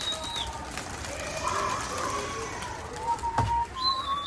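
Pigeons coo softly in a flock, low murmuring calls rising intermittently over faint background chirps and ambient outdoor noise.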